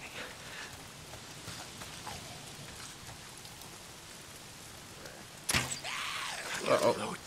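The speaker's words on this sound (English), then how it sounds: "Oh, damn rain. If it's not the freaks, it's the goddamn rain." Steady rain patters across the whole clip in the video game Days Gone, with a sudden louder burst and rumbling crash near the end.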